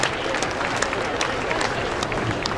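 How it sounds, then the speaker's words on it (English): An audience at a Northern California cherry blossom festival claps after a naginata martial arts demonstration, giving dense, steady applause with scattered sharp claps throughout. "let's give one more round of applause for the Northern California Naginata Federation"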